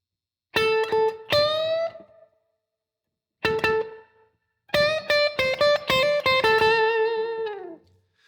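Electric guitar playing a slow 12-bar blues lick in A from the minor pentatonic scale, with a short phrase, a pause, then a longer run of sustained, bent and ringing notes that fade out, heard alone.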